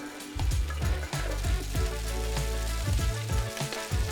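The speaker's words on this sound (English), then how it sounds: "First thing we're going in with is some diced pancetta." Diced pancetta sizzles in oil in a HexClad pasta pan, a steady bright frying hiss with scattered pops and spatters, heard alone and fairly close.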